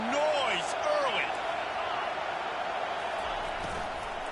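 Stadium crowd at a football game keeps up a steady roar throughout, with a commentator talking over it.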